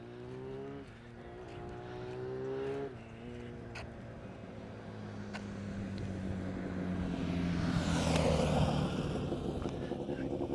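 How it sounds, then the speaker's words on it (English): A motorbike ridden along a suburban street in Harrisdale, Perth, passes by with a rising engine note that swells loudest near the end, over steady traffic and outdoor background noise. "Guy going for a bit of a"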